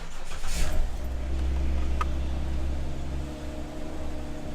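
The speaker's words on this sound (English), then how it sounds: "So I'll start the car." A 2010 Jeep Wrangler engine starts and settles into a steady, close idle, with a low rumble dominating and a brief click partway through.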